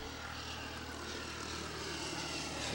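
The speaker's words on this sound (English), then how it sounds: "Here goes another helicopter." A helicopter passes over a Chautauqua County Fourth of July parade, its engine a steady broadband rumble that slowly swells louder as it nears overhead.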